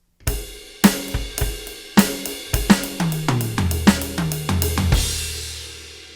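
A quick drum fill rolls across two drums, strokes alternating in an even rhythm and stepping down in pitch, ending in a washy cymbal crash.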